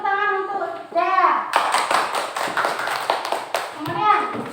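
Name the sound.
classroom clapping for a student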